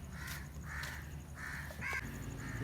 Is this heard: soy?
no